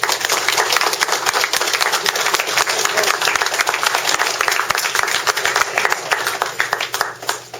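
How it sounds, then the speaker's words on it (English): Dense, lively round of applause from a group at a Veterans Day honor guard event at a Ponderosa restaurant, rapid overlapping claps close by with some voices mixed in. "And one more time for all of us, round of applause."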